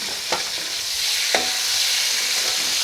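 Sliced onions and green chillies fry in a pan, giving a steady, loud sizzle broken by two brief stirring scrapes, with no voices.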